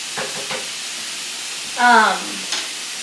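Thinly cut meat and onions fry and get stirred in a hot pan, a continuous hiss and crackle with scraping movements, broken briefly by a short voice.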